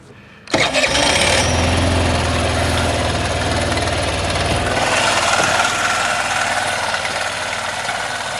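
A 2001 Honda CH80 scooter engine, freshly tuned with a cleared idle jet, sputters to life after a brief quiet moment, then revs and settles into a loud, steady running drone.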